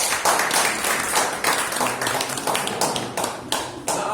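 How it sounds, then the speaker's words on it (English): A meeting audience gives a round of applause, dense steady clapping from many hands filling the room close by for several seconds, with no talking over it. "Have a round of applause."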